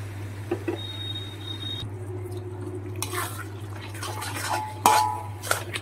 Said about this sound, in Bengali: এবার আমি ভেজে রাখা আলুগুলো এর মধ্যে অ্যাড করব।